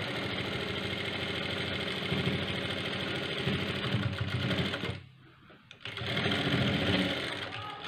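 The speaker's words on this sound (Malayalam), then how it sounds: "ആ 1 ഇഞ്ച് തയ്യലത്തുമ്പ് കറക്റ്റ് സ്ട്രൈറ്റ് തന്നെ തയ്ച്ച് പോരുക." A sewing machine runs steadily, stitching a blouse seam in a fast, even whir close by. It stops briefly near the middle and then starts up again.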